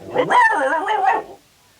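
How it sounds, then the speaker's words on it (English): A dog in an audiobook dramatisation of Enid Blyton's Five Go To Smuggler's Top gives one loud, drawn-out bark that trails into a whine close up, then falls silent. "Timmy can bark as much as he likes now."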